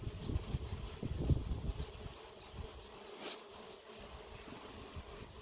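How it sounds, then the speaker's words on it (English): A swarm of honey bees drones in the air outdoors as a faint, steady buzzing hum heard from a distance, with a few low rumbles early on and no talk. "I could hear the swarm in the air from probably 100 feet away."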